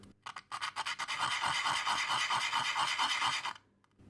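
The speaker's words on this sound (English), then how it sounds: "Since I want to go slow, I will simply use 320 sandpaper" A Colt Single Action Army revolver part being sanded by hand with 320-grit sandpaper, first in a few short strokes, then in a fast, steady run of close rasping rubs that stops abruptly.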